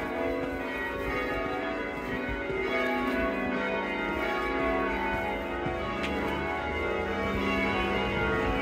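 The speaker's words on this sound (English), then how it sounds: "Little bit of the bells, should be able to hear them" Church bells in Teignmouth, Devon, ring out in a continuous layered peal, steady and fairly loud, with outdoor ambience underneath.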